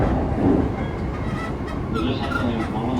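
An E233 series 3000 commuter train runs on the Takasaki Line rapid service approaching Omiya, giving a steady loud onboard rumble with rail clatter throughout and no talk.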